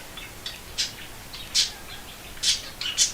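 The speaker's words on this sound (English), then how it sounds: "the birds just started talking" Small birds chirp outdoors in short, bright bursts, about six calls spaced irregularly over a few seconds, moderately near over a quiet background.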